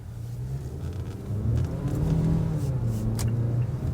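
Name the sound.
Mazda CX-5 engine accelerating while driving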